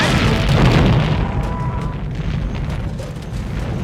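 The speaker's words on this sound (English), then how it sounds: "I had to add sounds of explosions" A deep, rumbling explosion effect: a loud low boom that swells in the first second and then rolls on as a sustained, slowly fading roar.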